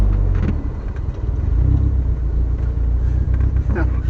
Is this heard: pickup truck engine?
yes